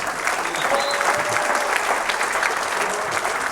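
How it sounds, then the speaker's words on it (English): An audience at a sales training event for annuities and Medicare applauds, a dense, continuous clapping that stays fairly loud and even from start to finish. "give these guys a round of applause"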